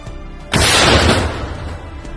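A single heavy artillery boom erupts suddenly and rolls on as a long, loud rumbling decay.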